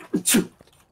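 A single short sneeze, fairly quiet and close, from a person during an online game session with friends.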